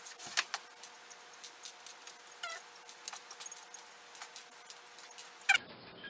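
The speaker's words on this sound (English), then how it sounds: "Now that you've stitched around the edge, you're going to take your pins out." Faint, close light metallic clicks and small rustles as sewing pins are pulled out of freshly stitched fabric for a hooded poncho, scattered irregular ticks in a quiet room with one sharper clatter near the end.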